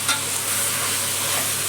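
Vegetables for veg biryani sautéing in hot oil, a steady close sizzle with faint stirring scrapes, no voices.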